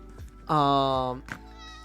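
A pet cat gives one clear, drawn-out meow, close and fairly loud. Short vocal sounds come just before and after it.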